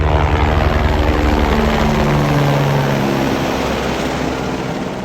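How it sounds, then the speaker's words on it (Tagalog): Heavy, steady rotor thump and engine roar of a helicopter passing overhead near a ski school, loud and continuous, slowly fading toward the end, with no voices. "Ayan, helicopter guys."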